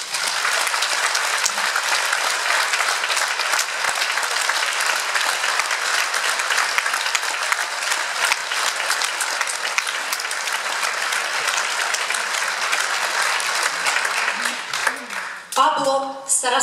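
A concert hall audience gives long, loud, continuous applause to an accordion duo. The clapping is dense and steady for about fifteen seconds before it thins out.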